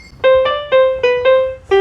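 The default piano voice of a Rixton 613 electronic keyboard, six separate notes played one after another in a steady rhythm, bright and close, each decaying quickly.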